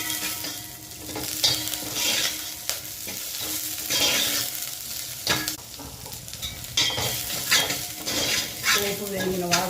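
Curry leaves crackle and sizzle in hot oil with browned onion for a home-style dal tempering, a busy continuous frying hiss broken by scraping stirs and metal spoon clinks against the pan, with no talking.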